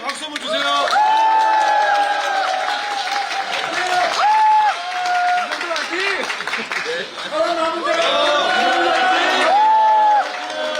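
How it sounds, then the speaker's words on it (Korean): Outdoor market election rally crowd clapping and cheering, loud and close, with whoops and shouting voices riding over the applause and a few swells of louder cheering. "자, 힘차게 박수 한번 주세요."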